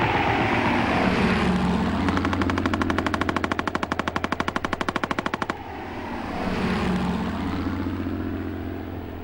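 A rapid burst of machine gun fire rattles for several seconds over the steady drone of a World War I era propeller aircraft engine, which continues after the shooting stops.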